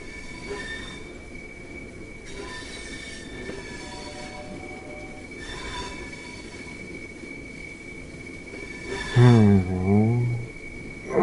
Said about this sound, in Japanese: begin applying a small amount of braking force to bring the train to a gentle stop.